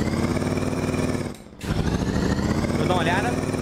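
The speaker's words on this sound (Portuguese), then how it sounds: "Vamos dar uma olhada no freio motor." A Mercedes truck's V8 engine brake in Euro Truck Simulator 2 gives a loud, rhythmic, throaty rumble that cuts out briefly and then returns at full strength.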